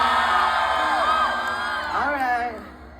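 A large festival concert crowd in Biñan City, Philippines, shouts and whoops loudly, a dense roar of overlapping voices with a few rising yells standing out before the noise tapers off slightly near the end.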